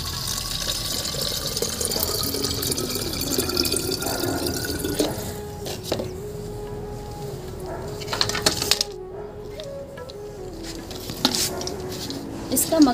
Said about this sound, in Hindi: एक लीटर पानी मिला लेंगे हम इसमें।